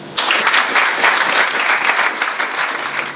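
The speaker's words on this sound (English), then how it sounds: "Please give a warm round of applause for Aditya." An audience at a tech talk bursts into warm applause, dense steady clapping that starts abruptly and holds at an even level throughout.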